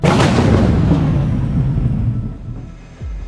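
A deep, heavy thunder rumble rolls and slowly fades, followed by a brief low thud at the end.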